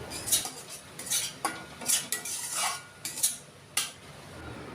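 A spoon scrapes and clinks against a pan while spices are stirred and fried for kofta curry, irregular metallic taps and scrapes over a soft sizzle, close and fairly quiet.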